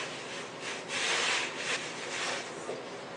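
Refractory mix stirred with perlite to a wet-sand consistency for a homemade gas forge gives a steady gritty scraping and rubbing, swelling and easing in close, loud strokes with no talk.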